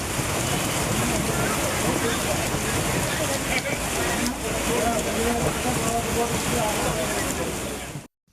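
Steady, dense rainfall in Chengalpattu district, a continuous broadband hiss that stays loud and even throughout before cutting off abruptly at the end.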